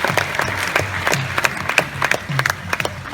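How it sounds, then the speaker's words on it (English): Scattered, fairly sparse clapping from an audience at an outdoor tiger show, individual claps distinct and irregular over a low background, brief and moderately close. "Let's give him a big round of applause."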